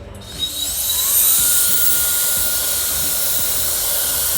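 A steady, high-pitched whirring hiss from a GA.MA iQ hair dryer runs continuously, blowing close by after switching on.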